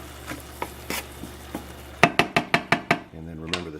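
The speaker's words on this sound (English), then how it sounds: "Give that a stir." Risotto rice stirred in a pan, with a spoon scraping and tapping the pan in a quick series of about seven strokes, close, after quieter clinks and a light sizzle; a voice speaks briefly at the end.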